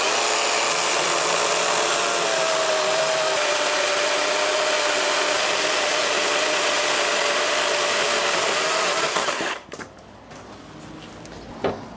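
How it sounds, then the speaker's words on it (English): A chainsaw drones steadily and loudly for about nine seconds while cutting a dogwood root, then cuts off abruptly, leaving quieter background noise and a faint knock. "I'm gonna chainsaw it."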